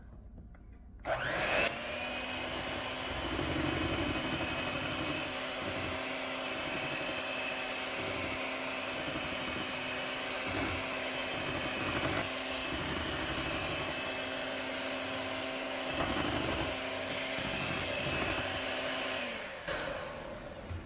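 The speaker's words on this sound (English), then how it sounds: "Once yogurt and oil are in, only a minute of mixing and I can put the mixer away." An electric mixer beats yogurt and oil into peach cake batter, a loud steady motor whine that starts abruptly, runs evenly for about eighteen seconds with occasional bumps, then cuts off.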